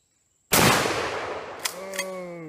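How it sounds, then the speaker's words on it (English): A shotgun fires a mini slug at a generic soda can outdoors: one sharp, loud blast after a moment of silence, trailing into a long rolling echo with a couple of faint later impacts. "Here we are, shotgun mini slug versus generic soda can."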